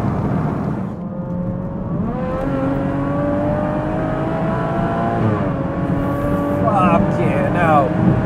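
A BMW M140i engine, tuned to 880 bhp and running on pump fuel, revs hard while driving, with a steady loud drone and rising gear sweeps under excited talk.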